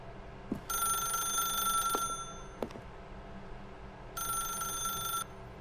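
An old telephone bell rings in The Stanley Parable video game, two long bursts of trilling with a pause between them, a few sharp clicks in between, clear and alone.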